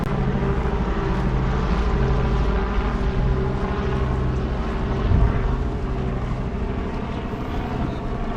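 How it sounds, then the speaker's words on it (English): A helicopter flying overhead on a rainy day produces a steady, low droning engine hum with layered tones, holding constant throughout and swelling slightly midway before settling again. "helicopter."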